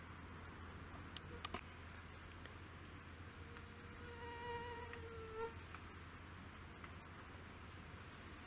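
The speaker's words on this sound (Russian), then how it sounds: "а то у меня комары тут сидят" Mosquitoes whine in a thin, high buzz that swells and fades as they pass close by outdoors in hot weather, with a few faint ticks and clicks in a quiet background.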